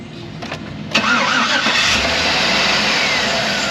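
Chevrolet Tahoe with a brake booster vacuum fault cranks briefly, then its engine catches and settles into a loud, steady idle, heard close up with no talking.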